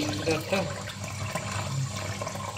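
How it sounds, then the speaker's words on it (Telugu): Water runs from a pipe while fish are washed outdoors, a steady close gushing flow with splashy texture, and a voice speaks faintly over it. "గొట్టంలో నుంచి నీళ్ళు వస్తున్నాయి అన్నమాట"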